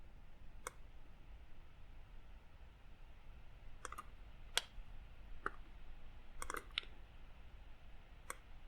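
Sparse computer mouse clicks while editing in Inkscape, about eight quiet single and double clicks spread irregularly over a low background hiss.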